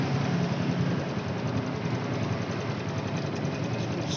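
A Honda Revo Fit motorcycle engine, freshly fitted with a new cam chain, idles steadily and up close, a dense even mechanical rumble with faint ticking and no voices over it.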